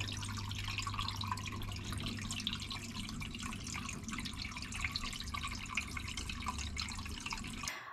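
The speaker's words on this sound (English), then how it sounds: "this is the teapot fountain" A teapot fountain trickles and drips water in a steady, continuous patter with no pauses, close by and moderately loud, under a faint low hum.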